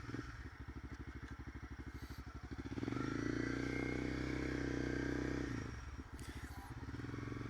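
A 2015 Honda CB300F motorcycle being ridden, its small single-cylinder engine chugging steadily, then revving louder through the middle before settling back to a rhythmic idle-like pulse.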